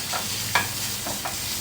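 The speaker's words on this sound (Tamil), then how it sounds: "லைட்டாக ட்ரை பண்ணி வதக்கிக்கணும்" Food lightly fries and is sautéed in a pan in a home kitchen, a soft continuous sizzle with a few brief scraping stirs, close and without talk.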